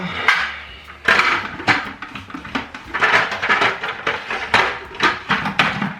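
A metal pot lid clatters and knocks against a soup pot on the stove, a series of sharp clanks and taps in uneven rhythm, close and fairly loud, with no talking.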